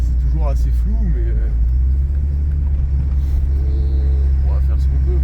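A Volkswagen Golf 3 with vague, unaligned steering and a working electric mirror drives along the road, its engine a steady low rumble throughout, with someone talking in French over the drone.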